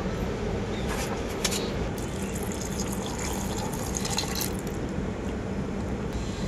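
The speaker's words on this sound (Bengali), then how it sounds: "আলু খোসা ছাড়ানোর পর আলুটা ধুয়ে নিয়েছিলাম, কিন্তু এখন আবারও খুব ভালো করে পরিষ্কার করে ধুয়ে নেব।" Grated potatoes being washed in a bowl of water, a dense continuous sloshing and rushing of water, loud and close, with no talk.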